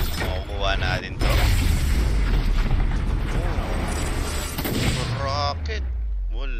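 A rocket blast in the battle-royale game Rules of Survival booms loudly, followed by crackling debris and layered explosion noise under excited game chatter.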